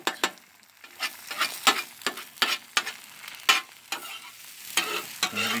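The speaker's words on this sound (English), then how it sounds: "And we cook these eggs up." Chopped eggs with broken yolks sizzle and fry on a Blackstone flat-top griddle, with repeated sharp scraping and chopping strikes of a spatula over a steady close sizzle.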